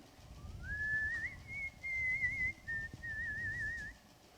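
A voice whistles a long, wavering tone that imitates gusting wind, rising at the start and sliding gently up and down for about three seconds, fairly close and alone over a faint low background rumble.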